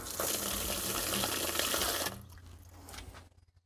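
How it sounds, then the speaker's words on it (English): Water gushes steadily from a newly replaced garden tap for about two seconds, then is shut off, leaving only faint dripping and rustling. "I've just switched the water on so that when we hit this"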